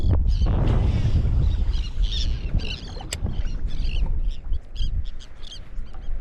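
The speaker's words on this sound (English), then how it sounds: "Got all these birds working right here" Seabirds feeding over water by the shore give a busy scatter of chirps and calls over a heavy wash of wind and water, loud and close at first before easing.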